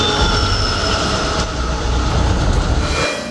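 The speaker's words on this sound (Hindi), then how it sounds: "Metro rail." A metro train runs on rails with a loud, continuous rumble and rattle, heard up close and unbroken for a few seconds before easing slightly at the end.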